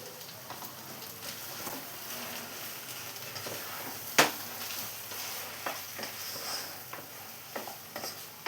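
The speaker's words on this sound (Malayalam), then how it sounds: "ഇനി നമുക്ക് ഫ്ലെയിം ഓഫ് ചെയ്ത ശേഷം എല്ലാം കൂടെ ഒന്ന് മിക്സ് ചെയ്തെടുക്കാം" A spatula stirs chicken chukka in a pan with the flame off, making soft scraping and faint leftover sizzle, with one sharp metallic clack near the middle and scattered light taps afterward.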